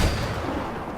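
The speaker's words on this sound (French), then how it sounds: "Je vais la chasser avec mon fusil de chasse." A single loud, booming hunting rifle shot in Far Cry 4, with a heavy low-end thump and a long rumbling tail.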